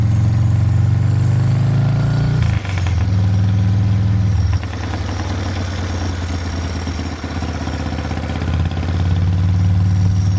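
A Harley-Davidson FXR motorcycle engine runs loud and close with a deep, steady low rumble, shifting in pitch a few times as the throttle eases and picks up, with no voices.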